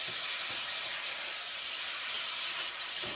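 Vegetables stir-fry with soy sauce in a hot pan, giving a loud, steady hiss and sizzle close up that holds evenly from start to finish with no voices.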